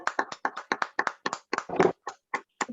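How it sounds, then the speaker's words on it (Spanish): A small group gives a round of applause at a Spanish-language gathering, with sparse, rhythmic hand claps close by and fairly quiet, with no talking. "Un aplauso para don Martín."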